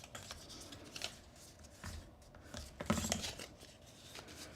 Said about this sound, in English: I just kind of get my fingernails in there to get the cardstock to fold before I burnish